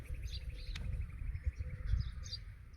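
Birds at a feeding spot on a cold morning, where crows, doves, sparrows and pigeons gather, giving scattered faint chirps and tweets over a low rumbling background.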